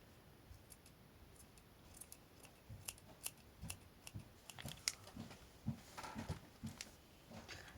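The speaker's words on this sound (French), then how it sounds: "On recoupe un petit peu." Scissors snip and trim a yarn pompom for jewelry, with a series of soft, irregular close cuts growing a little louder toward the end over faint background hiss.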